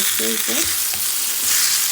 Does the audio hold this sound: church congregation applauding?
no